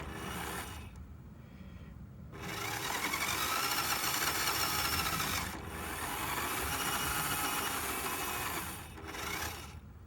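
The small engine of an LDRC 1297 RC car runs in bursts during fine throttle adjustment. It is a high, buzzing whine that starts, holds for a few seconds and cuts out, close by, with short quiet gaps between runs.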